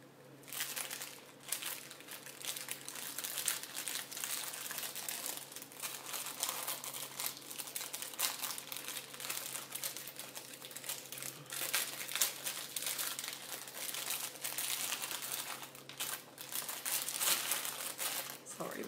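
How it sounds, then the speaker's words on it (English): Plastic packaging crinkles steadily and close up while stretchy bead bracelets are handled, a continuous crackling rustle with soft speech underneath. "Sorry about the crinkling."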